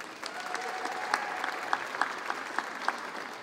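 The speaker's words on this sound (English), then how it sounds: "So a round of applause for them" A crowd at an outdoor city hall courtyard festival gives steady applause for the organizers, a dense wash of clapping with a few sharper individual claps standing out, no talking over it.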